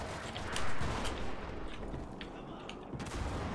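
Gunfire in the World War II shooter game Enlisted: scattered sharp shots and distant battle noise over a rumbling background, with a louder burst early on.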